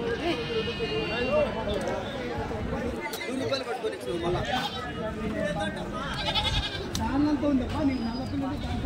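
Goats and sheep bleat repeatedly at a busy Tuesday livestock market in Kadiri, close and loud over steady crowd chatter and people talking, with a few hoof clip-clops.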